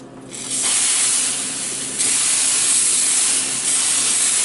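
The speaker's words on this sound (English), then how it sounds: "we're going to spray the pan" Cheap canola oil cooking spray hisses onto a pan in steady bursts, close and loud, with brief pauses between sprays.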